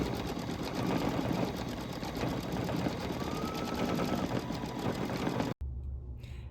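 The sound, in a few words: embroidery machine stitching light green quilt block stem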